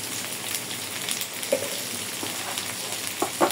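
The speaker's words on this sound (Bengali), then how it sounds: "মশলার একটু কষা নিতে হবে।" Ginger, cumin, coriander, chili powder, turmeric and salt fry in hot oil in a pan, giving a steady close sizzle with a few brief louder crackles and stirring scrapes near the end.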